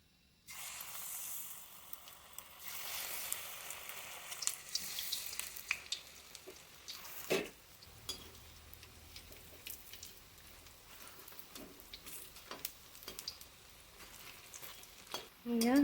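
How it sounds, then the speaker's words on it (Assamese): Cabbage pakora dropping into hot oil. A steady, soft bubbling sizzle runs throughout, with occasional clatters and scrapes from the pan and utensils. "তেনেহ'লে তেলত দিওঁ।"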